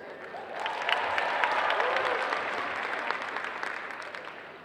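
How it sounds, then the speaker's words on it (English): A crowd applauds at a comic convention cosplay contest in Kansas City, with dense, steady clapping and a few cheers filling the hall and gradually tapering. "A round of applause for them."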